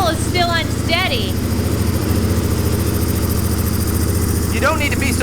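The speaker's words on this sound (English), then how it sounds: "I'll let it warm up a minute. It sounds like the idle is still unsteady." A dirt bike engine idles unsteadily while warming up, a loud continuous close-up rumble with a slightly uneven pulse, and a few brief voices break in over it near the start and end.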